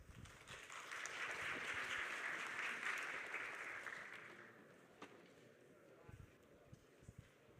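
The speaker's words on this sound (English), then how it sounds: "So please give her a big round of applause." Audience applause fills a conference session hall at a tech event in Prague, building to a sustained loud clatter of many hands, then tapering off into a few scattered claps.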